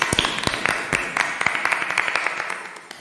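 Clapping at a Hindi Christian prayer service welcoming God before scripture reading, a steady patter of many hands, fairly close and moderately loud with no speech over it.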